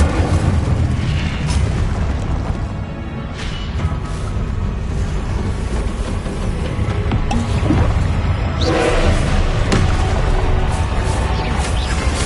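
Incendio fire spells cast during combat in the video game Hogwarts Legacy, a continuous roaring, booming rumble of flames and blasts with a brighter burst near the end, loud and dense throughout.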